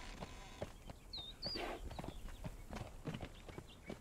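Horse hooves clip-clopping in the Conan Exiles video game as a horse walks around inside a tower, a quiet run of soft repeated steps with faint chirpy game noises over a low background.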